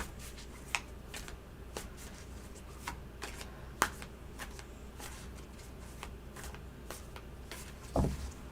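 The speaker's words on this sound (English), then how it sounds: "I don't know why I'm having problems shuffling." Tarot cards riffle and snap through a series of short, dry shuffles during a reading, soft and close, with a sharper flurry near the end and no talking.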